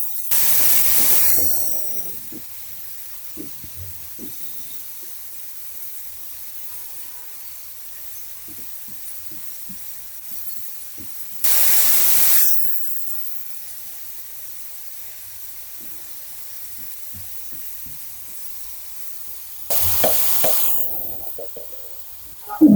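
Mung dal frying with cauliflower, salt and turmeric in a hot pan: three loud bursts of hissing sizzle, each fading back to a quieter steady crackle with light stirring clatter, close and with no voices.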